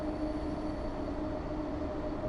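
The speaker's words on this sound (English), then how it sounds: "I do like you can hear that squeal as you go around a slight curve or a long curve." In Train Sim World 6, a BR Class 90 train rounds a curve, with a steady, thin high-pitched wheel squeal held over a constant low rolling rumble throughout.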